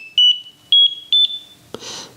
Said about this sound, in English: it'll tell me I'm arriving close to a waypoint, and you should hear the tone noise